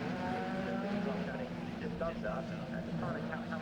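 Racing cars thunder past in a close pack during a BARC circuit race, engines roaring loudly and shifting pitch as they brake and accelerate, with a commentator talking over the engine noise throughout.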